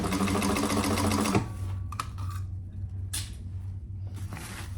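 A sewing machine stitches fabric in a fast, steady mechanical whir for about a second and a half, then stops, leaving faint clicks and handling noises with a brief spoken word.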